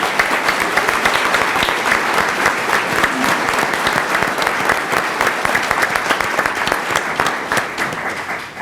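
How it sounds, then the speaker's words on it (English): A school board meeting audience gives a collective round of applause for a school team, dense steady clapping that fills the room at an even level throughout with no voices over it. "And a collective round of applause for Memorials team."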